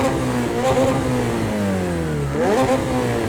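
A road car engine in the racing game Project CARS 2 revs and shifts, its pitch climbing through the gears, dropping, then rising again, loud and close with a rough mechanical edge.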